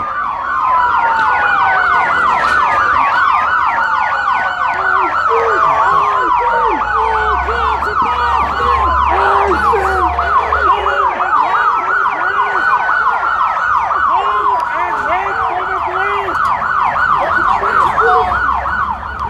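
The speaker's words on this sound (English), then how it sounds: "they have to turn the sirens off because they can't take their own sound" Emergency vehicle sirens wail continuously at a Seattle street protest, several overlapping sweeping tones rising and falling in steady cycles, loud and close with a low vehicle rumble beneath for the full stretch.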